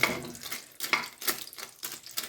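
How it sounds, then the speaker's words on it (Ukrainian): Water is poured into a cooking pot that already holds chicken and penne pasta. The pour sounds like a gurgling, splashing stream that rises and falls in several surges, with no talking. "І додам трошки води."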